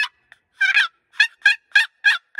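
A box-style turkey call, its paddle scraped across the top edges of the chamber, gives a series of about six close, loud, raspy yelps in an uneven rhythm, with no talk.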